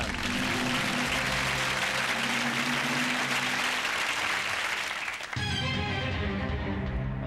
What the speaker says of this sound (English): clapping away happily up there